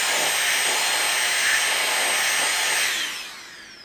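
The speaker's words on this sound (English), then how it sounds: "So normally I would try and blow the dust out like so." Steady, loud rushing air hiss from a VSGO electric blower aimed at a camera sensor to clear dust, running continuously close up for several seconds, then dropping in level as it winds down.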